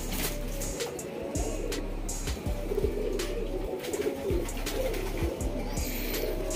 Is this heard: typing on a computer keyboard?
no